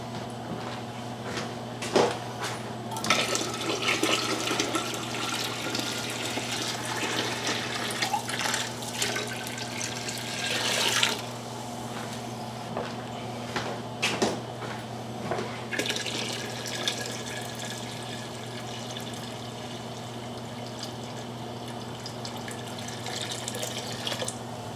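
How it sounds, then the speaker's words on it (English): A tap runs to top off a water-bath canner full of jars of pickles, with a continuous close rush of water, some clinks and drips, and a steady low hum underneath. "I'll just go ahead and top the rest of this canner off with water"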